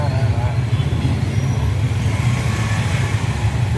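Road traffic in Bangalore heard from inside an auto rickshaw: a dense, steady rumble of engines and passing vehicles, loud and unbroken throughout.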